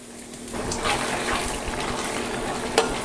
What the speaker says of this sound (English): I add a bit more water